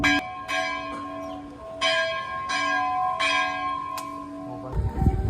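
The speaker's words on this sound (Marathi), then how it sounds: "मंदिर चालू झाल्यानंतर असा मंदिराचा घंटा वाजतोय बघा" A temple bell rings at Badrinath temple in repeated strikes about every 0.7 seconds, each leaving a ringing metallic tone. The strikes are clear and fairly close, and a brief clatter of other noise comes at the end.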